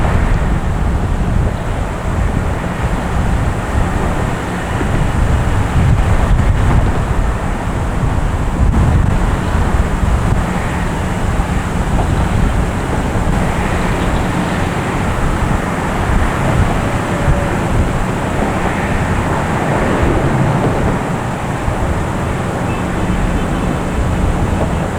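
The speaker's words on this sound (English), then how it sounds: "We got a JetBlue here heading to Charleston." A JetBlue Airbus A320 airliner at Boston Logan Airport produces a loud, continuous low engine roar with heavy wind rumble across the microphone, steady throughout without talk.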